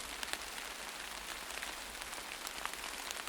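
Steady rain falls in a dense, even hiss with scattered drop ticks, continuous and unbroken, with no voices.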